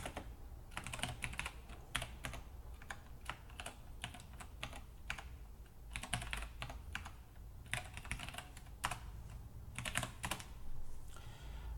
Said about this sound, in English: I will type some password of my choice.